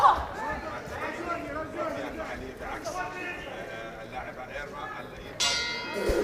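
A ring-side bell sounds at the end of a round during a women's amateur boxing bout at the IBA Champions' Night in Abu Dhabi, cutting through crowd hubbub and a commentator's voice.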